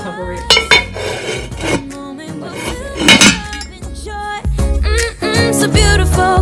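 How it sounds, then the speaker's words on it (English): A lid clanking onto a metal pot of chicken chili: a series of loud, ringing metallic clatters and clinks, close by, with no talk over them. "This pot holds it in, so I'm just gonna cover it."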